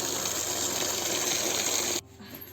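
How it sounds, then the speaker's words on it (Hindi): Freshly picked stinging nettle (kandali) is rinsed in cold running water, a steady close gush and splash that cuts off sharply near the end, leaving quiet room tone. "सबसे पहले हमने जितनी कर्नाली निकाल ली है उसे ठंडे पानी से धुलते हैं एक बारी।"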